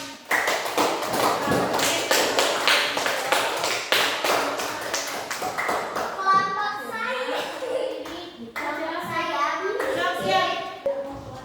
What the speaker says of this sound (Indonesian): Kalian tepuk tangan ya.